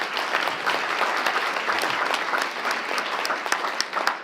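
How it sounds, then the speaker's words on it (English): A breakfast audience at a social media event applauds a speaker with steady, full clapping that carries evenly from start to finish. "let's give him another round of applause."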